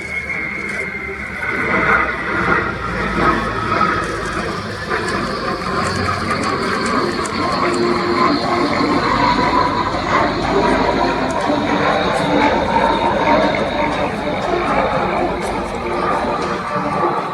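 A French Navy Bréguet Atlantique 2 maritime patrol aircraft flies a display at an airshow, its broad turboprop drone steady and loud throughout, with a commentator talking over it.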